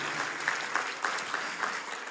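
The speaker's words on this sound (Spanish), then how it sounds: "Un fuerte aplauso para todos ellos." Audience applause fills a church service, a steady even clapping from a congregation that runs unbroken throughout at moderate level, with no voices over it.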